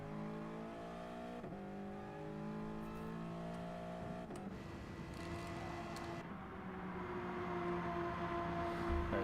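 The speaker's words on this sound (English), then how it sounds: "you can see that Toyota 86 right here." A Toyota 86 Group 4 race car in Gran Turismo, racing at Tokyo, drones steadily with a sustained engine note that shifts pitch through gear changes, fairly quiet and with no talk.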